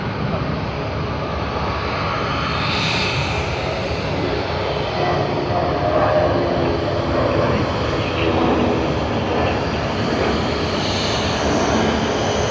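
A Virgin Australia Boeing 737 airliner passes at Sydney Airport with a broad, continuous roar of jet engines, loud and steady throughout with slight swells, while faint voices talk underneath.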